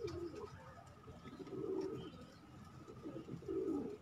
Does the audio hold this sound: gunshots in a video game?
no